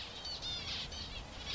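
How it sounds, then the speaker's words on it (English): Finches in the Central Australian bush chatter in quick, high twittering calls, steady and fairly close, with no voices. "those finches."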